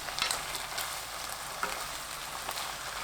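Young radish greens are stir-fried with bubbling seasoning sauce in a pan. A soft, steady sizzle runs under light stirring and scraping, fairly quiet and even throughout.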